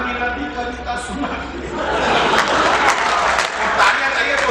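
An audience at a Haryanvi poetry recital claps and cheers, applause swelling from a murmur into a steady loud ovation, with a voice speaking over the start.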